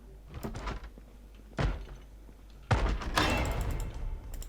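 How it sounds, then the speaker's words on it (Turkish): Zombies force the downstairs door of a house in Project Zomboid, with a heavy thud, then a louder slam and a rough rattling burst, all fairly close with no talk. "aşağı kapıyı da zorluyorlar"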